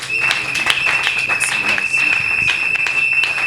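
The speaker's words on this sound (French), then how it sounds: "Le docteur Ntombama, et c'est sous nos acclamations." Audience applause at a religious conference, a dense, steady burst of many hands clapping that fills the whole moment, with some voices mixed into the crowd.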